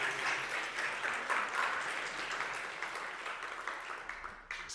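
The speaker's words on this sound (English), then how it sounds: "Give a warm applause for Sebastian." A university audience applauds a speaker before his master's thesis talk, a moderate round of clapping from a modest crowd that slowly fades over about four seconds, heard at a slight distance.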